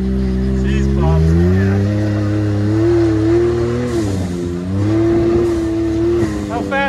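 A KTM ATV engine revs hard through a burnout, its loud, close drone rising and falling in pitch with throttle pulses, while voices talk over it.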